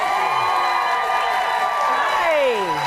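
Studio audience on a talk show applauding and cheering loudly for a returning comedian guest, a dense steady roar of claps and whoops with a host's voice over it.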